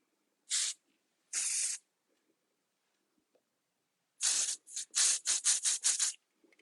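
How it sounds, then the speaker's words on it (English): Short hissing bursts of an aerosol hairspray on a short pixie haircut: two separate sprays, a pause, then a quick run of rapid spurts, close and fairly soft. "just a little bit of spray."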